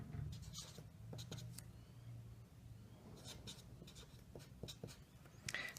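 Pen writing on a notebook page while working out a calculus product-rule problem, a soft scratchy scribbling that comes in short bursts with pauses, close and faint, against a low steady room hum.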